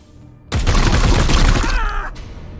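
A sustained, loud burst of rapid gunfire from the video game Warhammer 40,000: Chaos Gate - Daemonhunters erupts abruptly and rattles on dense and continuous for about a second and a half, then tails off into a ringing decay.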